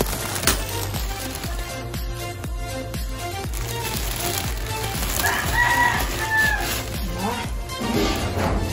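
A rooster crows once in a clear, drawn-out call at moderate distance, with some clucking around it, over a steady background of rhythmic household noise.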